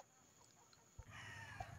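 A large ten-month-old pet rooster weighing about five kilos, eating bananas, gives soft, faint clucks close by, alone with no talk, with a slightly louder stretch in the second half.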